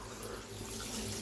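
Steady broadband rush of water streaming from a filtered shower head, close and continuous with no voices.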